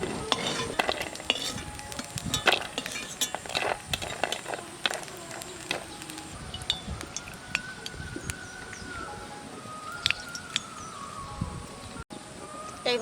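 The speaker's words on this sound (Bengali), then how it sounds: "এই ডালের বড়িটা একটু লাল লাল করে ভাজতে হবে" Lentil dumplings (dal bori) frying in a pan until reddish: busy clattering and scraping of a spatula against the pan over a faint sizzle, with sharp irregular knocks throughout and no speech.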